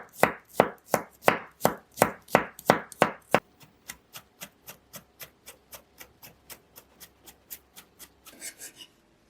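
A knife chopping fresh garlic coarsely on a cutting board in a quick steady rhythm, loud strokes at first, then lighter, faster taps.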